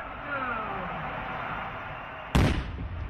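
A touchdown firework shell bursts with one sudden loud boom after a stretch of steady crowd and outdoor background noise at a fall football game in Tennessee, then trails off in rumbling echo.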